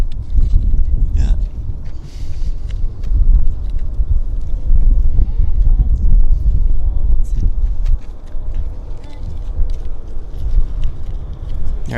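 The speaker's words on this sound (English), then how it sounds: "There's the wind." Wind buffeting outdoors at Vancouver Airport during plane spotting, a loud, close, rumbling roar of gusts across the microphone that carries on throughout, with scattered knocks and handling noises mixed in.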